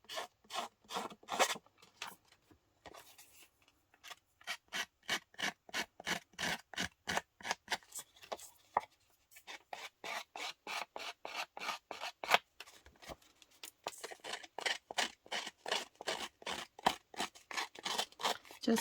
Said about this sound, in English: Just distressing the edges.